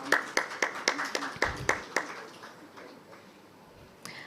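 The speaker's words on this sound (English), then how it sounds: "May we have a round of applause, please." A small audience claps at a conference, with a burst of sharp, close hand claps in quick rhythm for about two seconds that then thins out to scattered faint claps.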